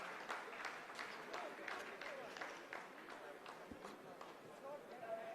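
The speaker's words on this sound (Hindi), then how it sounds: "आप इस तालियों के गड़गड़ाहट को सुन सकते हैं" Scientists at Chandrayaan-3 mission control burst into steady, dense applause after the second braking phase finishes, a continuous crackle of many hands clapping at moderate distance for several seconds.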